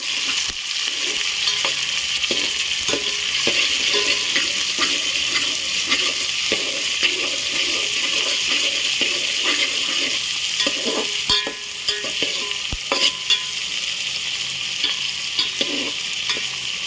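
Onion, tomato and chilli sizzle steadily while frying in oil for vagharela bhat made from leftover rice, with scattered scraping clicks of a spoon stirring through the pan, continuous and close.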